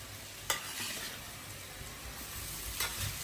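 Tomato, coriander and spices frying in oil for a Maharashtrian brinjal bharit, a faint steady sizzle with two sharp utensil taps spaced a couple of seconds apart.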